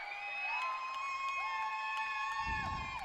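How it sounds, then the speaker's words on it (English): Crowd cheering at a women's college basketball home game as seniors are honoured, a faint, distant wash of cheers and whoops in a gym, with sustained tones ringing over it. "The seniors getting a big cheer"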